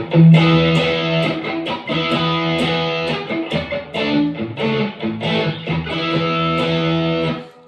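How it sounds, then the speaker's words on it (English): Distorted electric guitar playing a gritty, sustained classic rock riff with chords and quick notes through a Fender Deluxe Reverb amp with a distortion pedal, loud and close, no voices. "this is a Fender Deluxe Reverb with a dirt pedal added."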